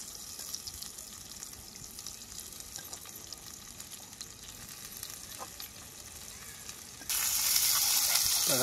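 A phodni (tempering) hitting hot oil over a strong stove fire for an egg bhurji, quiet background cooking sounds, then a sudden loud, hissing sizzle bursting in near the end and continuing strongly.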